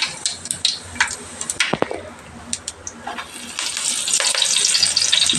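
Tempering spices are added to two large spoonfuls of hot oil and sizzle in the pan, starting with scattered crackles and pops and building into a louder, steady frying hiss. The sizzling is close, with no talking over it.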